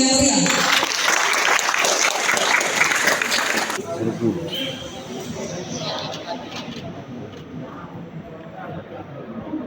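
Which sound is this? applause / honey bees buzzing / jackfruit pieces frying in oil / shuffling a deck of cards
applause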